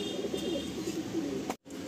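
Green-eyed pigeons, a female and a male kept as a pair, coo in a low repeated rolling pattern close by, with steady background hum and a brief dropout near the end.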